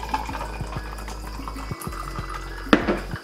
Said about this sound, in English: I'm pouring it in.